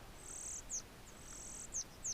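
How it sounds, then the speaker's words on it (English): A bird calls in the Red Desert Render video game, a faint, high, thin whistle repeated in short drawn-out notes and quick chirps over quiet background ambience. "I definitely don't recognize that bird's call."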